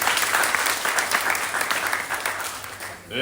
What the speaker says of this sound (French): il mérite beaucoup d'applaudissements